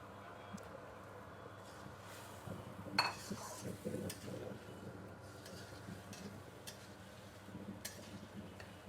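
Chopped pointed gourd is tipped into a pan of lightly fried potatoes, giving a soft clatter and a few sharp utensil clinks and scrapes against the pan amid quiet kitchen background.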